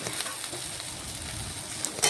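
Okra (bhindi) dry-frying in a pan with a light salt and turmeric coating, giving a steady soft sizzle that runs throughout with faint crackles, close and moderately quiet with no voices.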